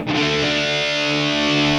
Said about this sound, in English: pretty much any time a power chord or a fifth chord is used, it will be on a distorted electric guitar